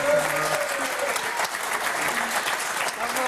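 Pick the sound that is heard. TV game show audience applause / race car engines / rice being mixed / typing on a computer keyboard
TV game show audience applause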